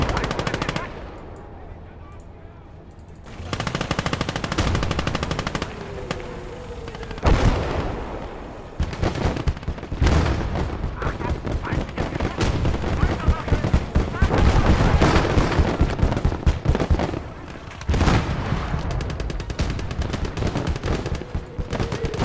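Artillery fire in the war game Kampfgruppe booms amid dense, continuous machine-gun and rifle fire, a loud, sustained battle din with overlapping bursts and heavy impacts.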